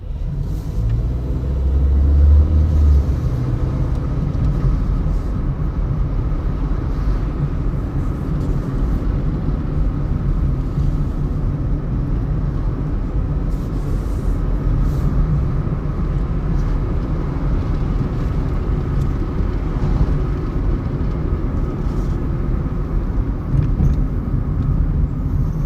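Toyota Corolla exhaust rumbling with a loose heat shield on a delivery drive, a steady low drone that holds close and loud throughout with no talking.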